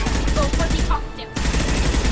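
Rapid bursts of gunfire rattle through a Mass Effect 2 combat fight on Insanity difficulty, dense and loud, with a brief gap before the shooting resumes.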